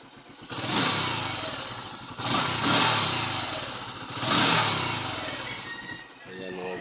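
A motorcycle engine runs steadily at idle while warming up, its low rumble swelling in a few gentle surges, close and fairly loud.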